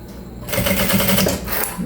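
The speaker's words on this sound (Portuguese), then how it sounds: "Vai costurando toda a volta." A sewing machine runs a continuous line of stitching around the edge of a cosmetic bag, starting after a brief quiet moment with a steady, close, fast mechanical rattle.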